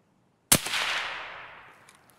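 A single sharp gunshot from an Escape From Tarkov raid rings out with a sudden loud crack, followed by a long reverberating echo that fades over about two seconds.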